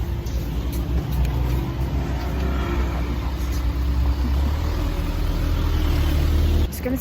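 A car passes on a city street in South Korea, a steady, fairly close traffic rumble that holds for several seconds before easing off near the end.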